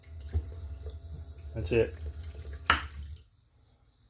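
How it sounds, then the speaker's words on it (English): Water runs from the faucet of a small camper sink fed by a quiet water pump, a steady low flow and splash for about three seconds that then stops, with a short spoken remark over it. "wants to know about the quiet water pump. Well, here it goes."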